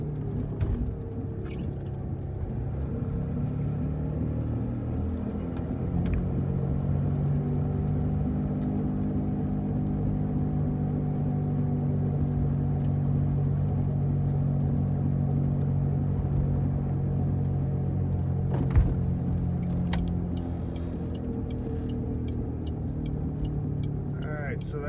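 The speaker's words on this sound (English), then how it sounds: "So this is how the car drives." A Saturn Ion car cruising slowly through a residential neighborhood at about 25 mph, its engine a steady, loud low rumble heard from inside the cabin for the whole stretch, with only a few brief knocks.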